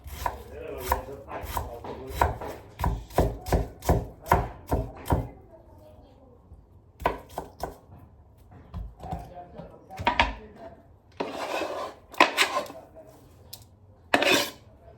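A knife chops onions quickly and repeatedly on a cutting board in a steady run, pauses, then resumes in shorter bursts with faint kitchen clatter.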